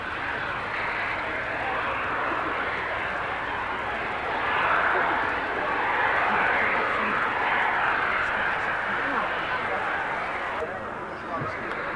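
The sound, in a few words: aeroplane flying at Farnborough Air Show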